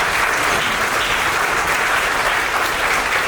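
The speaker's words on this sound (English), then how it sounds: "Give her a round of applause" A crowd at a choir and solidarity event claps loudly and continuously, a dense, even wash of applause with no gaps from start to finish.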